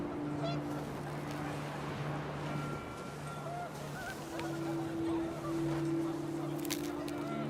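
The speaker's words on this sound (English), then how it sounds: "The wind picked up, and panicked geese appeared and quickly went." Panicked geese honk in What Remains of Edith Finch, their calls scattered and somewhat distant over a steady bed of wind and outdoor ambience, with a few sharper cries near the start and end.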